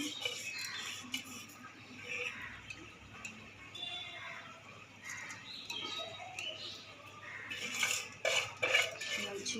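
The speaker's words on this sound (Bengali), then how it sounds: "সব চালটুকু একদম দিয়ে ফেললাম।" Dry rice grains being tipped into a pressure cooker for polao, giving a near scraping, pattering clatter of grains against metal with a few sharper clinks toward the end, and no talk.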